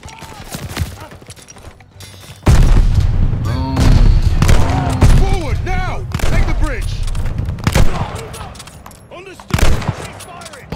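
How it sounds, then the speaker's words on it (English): Gunfire and explosions in a Call of Duty: Vanguard D-Day campaign battle, with dense volleys, booms and thuds under urgent shouted voices, loud and continuous throughout. "Keep shooting."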